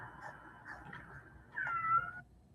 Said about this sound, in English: there's a kitty in the background, a little kitty cat